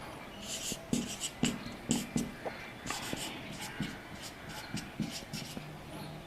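Chalk or marker scratches across a board during a chemistry lecture, in quick bursts of strokes with short pauses between words, close and crisp, with no talk over the writing.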